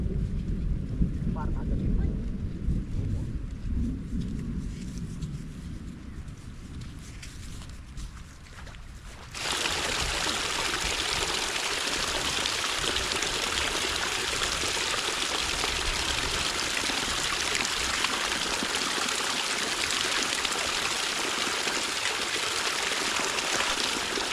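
A rising, flooding river rushes in a loud, continuous roar that holds steady throughout and surges even fuller and brighter partway through.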